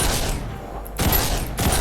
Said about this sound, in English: when you're not aiming, it's a shotgun. And it's a pretty bad shotgun at that.